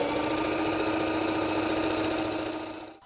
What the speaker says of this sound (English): Now I am sewing all of my pockets on as per the instructions, remembering to reverse stitch.